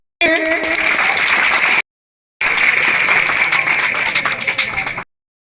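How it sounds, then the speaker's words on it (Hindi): Audience applause at a village gathering, a dense, steady burst of clapping that cuts off, pauses briefly, then resumes just as loud before ending abruptly. "ये भी तालियां बजाइए"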